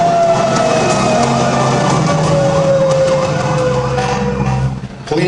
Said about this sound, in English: If you hear a fire engine, get out of the way.